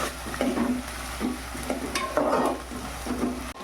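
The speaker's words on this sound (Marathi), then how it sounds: "तोपर्यंत आपल्याला भाजायचं आहे कांदा" Onion frying in a pan for mutton curry, a soft sizzle with repeated stirring scrapes in a loose rhythm, close and fairly quiet, with no one talking.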